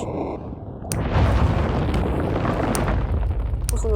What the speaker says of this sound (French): On va voir si un mec survit à la bombe nucléaire.